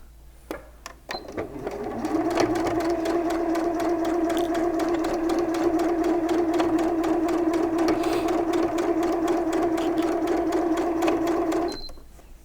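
Sewing machine running a steady, continuous basting stitch with a 1/4-inch seam allowance on pajama pant fabric. The motor hum sits close and even for about ten seconds, with a few soft clicks when it starts and stops.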